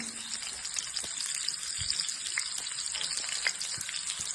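Chopped onion and curry leaves sizzle steadily in hot oil for an egg curry, a close, even frying hiss with scattered small crackles and pops and no voices.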